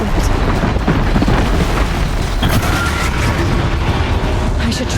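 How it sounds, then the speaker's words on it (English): Loud, continuous rumbling crash with repeated booming bursts as a platform comes down after its supporting pillar is destroyed in the video game Horizon Zero Dawn, dense and sustained for the whole stretch. "One more pillar and that platform will come down."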